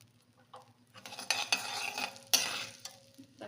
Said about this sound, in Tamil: இதில் கொஞ்சமாக ஜீரகம் சேர்த்துக்கிறேன். ஜீரகம் கொஞ்சம் பொரியணும்.